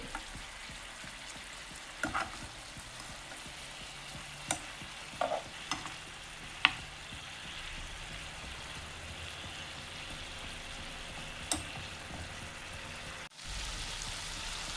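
Fish frying in a pan gives a steady, soft sizzle throughout, broken by a few sharp pops and clicks of utensils, with no talking.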